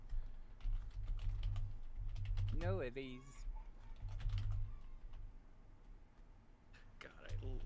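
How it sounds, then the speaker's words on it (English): Quick, light clicking keystrokes on a computer keyboard come in scattered bursts under a voice, with a brief spoken phrase in the middle. "Hold on a second. I'm just typing this stuff up."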